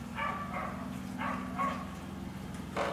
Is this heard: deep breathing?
no